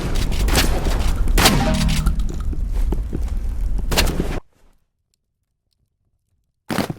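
Rapid bursts of gunfire from the Roblox Rivals video game crackle loudly and densely for several seconds, then cut abruptly to silence before another burst starts.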